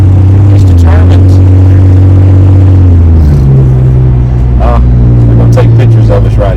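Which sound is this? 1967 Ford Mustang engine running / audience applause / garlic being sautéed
1967 Ford Mustang engine running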